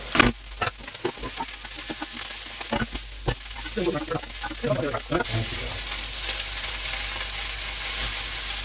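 Crab fried rice fries loudly in a pan, a steady close sizzle with stirring scrapes and rustles in the first half and a broad bright hiss at the end.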